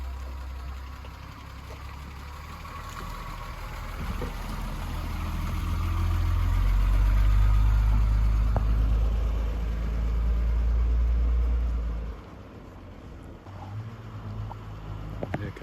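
A classic car engine rumbles as it drives slowly into a transport trailer, the low drone swelling louder mid-way, then easing off and idling quietly toward the end, with no one talking.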